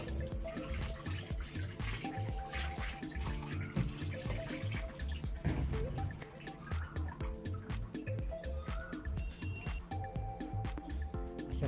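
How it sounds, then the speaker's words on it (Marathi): A fish tank backdrop being rinsed under running tap water, a continuous close splashing and trickling stream with uneven gurgles, no talking. "पाणी आणि व्यवस्थित स्वच्छ पाण्याने धुवून घेणार आहोत"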